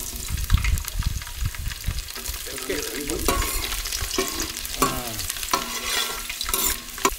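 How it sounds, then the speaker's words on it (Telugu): Dry spices and garlic cloves fry in hot oil in a pot for a dhaba-style chicken curry, giving a steady crackling sizzle with scraping stirs throughout and no talking. "ఈ డ్రై మసాలాలు ఫస్ట్ వేసుకొని కొంచెం వేయించుకోవాలి"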